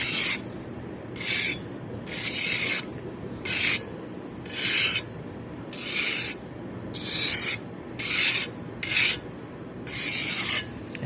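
A coarse file rasps across an old knife blade being restored, about ten rhythmic back-and-forth strokes, each a gritty scraping burst with short pauses between, close up and with no voices.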